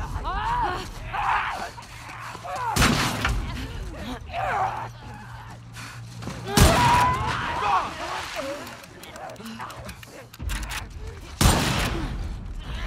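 Gunfire from The Last of Us Part II, with a few loud broadband shots standing out around in-game ambience, groans and gasps, heard under bursts of game dialogue.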